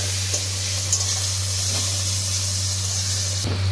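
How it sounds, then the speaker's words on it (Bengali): Garlic paste is stirred into softened cooked tomato in a pan, with a loud continuous sizzle and a scrape of the spoon over a steady low hum. "এবার আমি এর মধ্যে দিয়ে দিচ্ছি রসুন বাটা। এবার একটু নাড়াচাড়া করে নিচ্ছি।"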